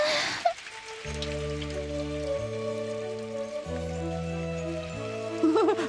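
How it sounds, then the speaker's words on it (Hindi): Steady rain falls in a wide wash of noise, with sustained musical tones playing over it throughout. "हाँ, बारिश बारिश हो रही है डैड।"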